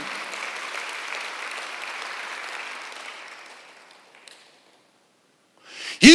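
A church congregation applauds during a Korean Sunday worship service, a steady wash of clapping that thins out and fades to near silence before a single voice abruptly starts speaking close by.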